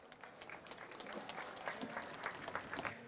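An audience at a pony harness race claps in steady applause, many hands patting at a moderate distance, building slightly and continuing throughout.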